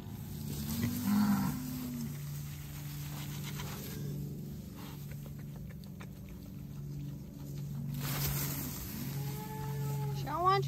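A heifer cow moos near a farm pen. Low, drawn-out calls come near the start and again toward the end over steady background hum, with brief rustling in between.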